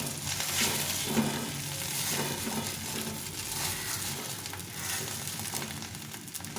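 An omelette sizzles in a hot frying pan as it is cut into small pieces, a steady bright frying hiss with soft scraping running throughout, no voices.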